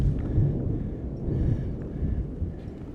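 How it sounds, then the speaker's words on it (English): Deep rumbling thunder from a storm overhead at the crampon point on Mount Everest, low and rolling with a couple of swelling booms, heard faintly through wind buffeting the microphone. "The thunderstorm overhead"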